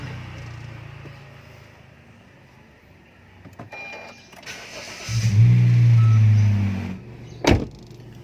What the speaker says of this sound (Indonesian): Kita sudah masuk di mobil.